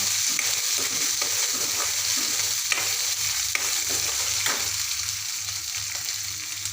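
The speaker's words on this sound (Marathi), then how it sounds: "नंतर मी एक टोमॅटो चिरलेला घालणार आहे आता त्याला पण छान असं मस्त परतून घेणार आहे" Chopped tomato sautés in hot oil for an aloo masala, with a steady close sizzle and periodic scraping stirs of a spoon through the pan.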